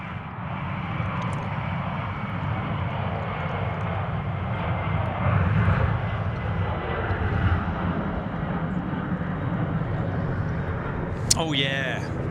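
An airliner's engines roar steadily at Sydney Airport during takeoff, a loud sustained rumble swelling and holding, with a short sharp clatter near the end.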